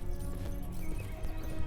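Horses' hooves clip-clop steadily in the game 1428: Shadows over Silesia, a dense, close patter of hoofbeats with faint clatter over a busy background.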